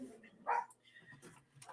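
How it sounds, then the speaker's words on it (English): Dogs barking outside, heard from indoors as a few short, muffled barks, one sharper yelp standing out in the middle, fairly faint and distant against a quiet room. "I apologize for the dogs barking. I don't know what's going on outside."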